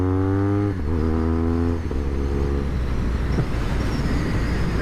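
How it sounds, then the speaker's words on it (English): A BMW R1200 R motorcycle engine dropping through a downshift with automatic rev matching: a steady low drone, then a quick blip and a lower settling tone, followed by rising road and engine roar. "I want to go down a gear. And you don't get to the slipper clutch because it's rev matching already."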